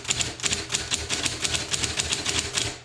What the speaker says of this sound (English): it still has some ribbon ink in it, so that's pretty good. And types well.